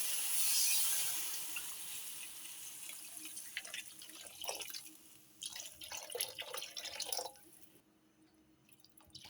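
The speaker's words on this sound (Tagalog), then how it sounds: "Ilagyan na tayo ng tubig." Water poured into a hot pan of sautéed shrimp heads while making pancit canton, a steady close pour and splash with sizzling that fades near the end.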